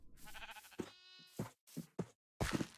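Minecraft sheep bleat in a series of short, nasal calls with brief gaps between them, loud and close with no talking.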